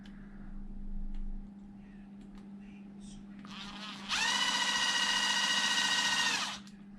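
A power drill with a trigger-activated light runs while working on a shock from a Losi LMT RC truck: a faint buzzing rise, then a loud, steady high whine for about two seconds over a low background hum.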